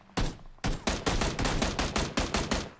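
Automatic rifle fire in PUBG, a rapid string of about a dozen loud, close shots in a steady rhythm after a short opening burst, with no voices over it.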